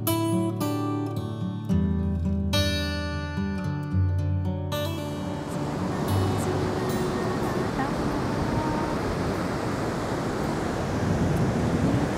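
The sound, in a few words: monsoon sea waves crashing on the shore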